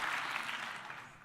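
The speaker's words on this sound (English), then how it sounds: "That gets a big cheer." A crowd cheers and applauds steadily throughout, a dense, continuous wash of clapping and cheering from a live audience that fades slightly toward the end.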